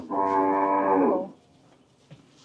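A single long, loud moo from cattle at a cattle sale where bulls are shown, lasting over a second before fading into quiet background noise.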